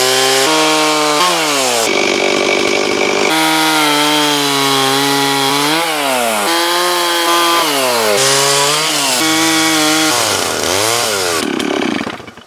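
A chainsaw trims a wall log down to size on an Alaska log cabin build. The engine roars loud and close throughout, pitch rising and falling as it bogs into the cut and revs free, before it cuts off at the end.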